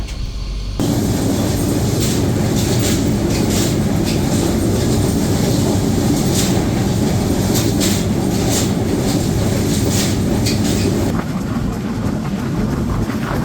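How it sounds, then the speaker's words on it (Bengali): The Shimanta Express train pulls into Natore railway station at night, a loud continuous roar of wheels and carriages with rattling and clacking throughout, easing slightly toward the end. "ট্রেনটি প্রবেশ করলো নাটোর রেলওয়ে স্টেশনে"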